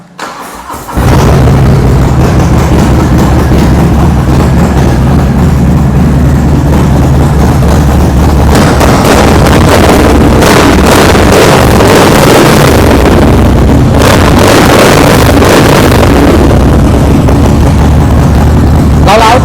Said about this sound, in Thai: เดี๋ยวฟังเสียงเครื่องยนต์กันดูครับไม่ผิดหวังแน่นอนครับ